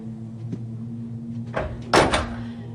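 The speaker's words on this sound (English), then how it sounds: "The door. Open or closed? Closed." A door is pushed shut with a dull thud and a short rattling slam, close by, over a steady low hum.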